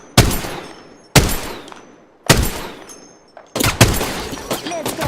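Video game gunfire from Apex Legends or Fortnite: four sharp, loud bursts of shots spaced about a second apart, each decaying quickly, the last one rattling on longer.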